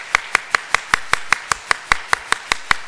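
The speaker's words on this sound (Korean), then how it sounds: "박수로 환영하겠습니다." Rhythmic, evenly spaced claps ring out in a church congregation welcoming a member, about fourteen sharp, loud, close hand claps in a steady beat with no talking.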